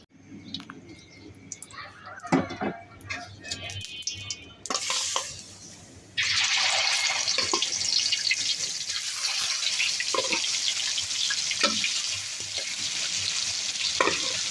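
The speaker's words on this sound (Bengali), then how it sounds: "মাছগুলো একসাথে দিয়ে দিলাম আজকে ডিম মাছ ভাজা বেগুন ভাজা আলু ভাজা" Rohu fish pieces fry in hot oil in a pan, giving a steady close sizzle that starts after some clinks and handling noises and keeps going, with a voice speaking faintly at times.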